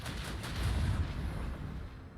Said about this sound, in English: Port side macro cannons engage.